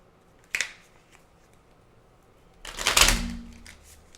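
Tarot cards are shuffled at close range on a couch during a reading, a short sharp riffle followed after a pause by a longer, louder burst of flicking cards in a quiet room.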